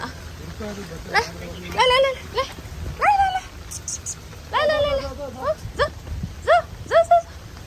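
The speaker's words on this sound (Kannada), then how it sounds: "ಇಲ್ಲಿದೆ ಯಾವುದೋ ನಾಯಿ ಇದು" A stray dog outside a house gate gives a series of short, high yips and whining barks at close range, in irregular bursts with pauses between.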